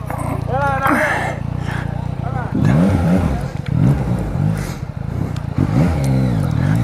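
Yamaha MT-09 motorcycle accelerating on London streets, engine revving in repeated rising surges with brief drops between them, loud and close, while someone talks and exclaims excitedly throughout.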